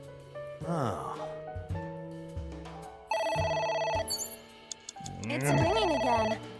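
A telephone rings in the detective adventure game AI: The Somnium Files, its electronic tone sounding in repeated bursts among game music and voice sounds, clearly audible at moderate level.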